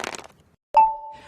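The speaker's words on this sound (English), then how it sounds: "That's the intern Dale, cracking ice for a soda." A brief rustle, a pause, then a sharp crack of ice being broken for a soda, followed by a ringing, bell-like tone that fades quickly.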